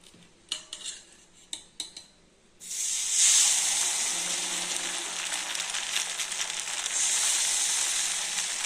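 Sesame appam batter hits hot coconut oil and breaks into a loud, steady sizzle and hiss that carries on to the end, after a few clinks of a spoon against a pan.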